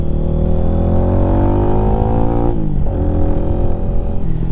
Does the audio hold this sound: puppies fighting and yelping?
no